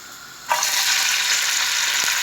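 Onion and green onion drop into very hot oil in a pan, bursting into a loud, steady, close sizzle that holds evenly to the end.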